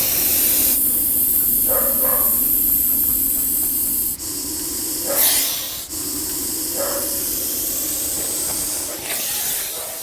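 A viper hissing hard when threatened, a loud, continuous broadband rush that runs steadily the whole time, with a few brief breaks and bursts of stronger air.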